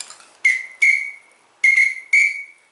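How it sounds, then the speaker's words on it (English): A Primos 6-in-1 duck call sounds off in four short whistled blasts grouped in two pairs, bright and close with abrupt starts and quick fades. "You can do 4 different duck calls with this thing."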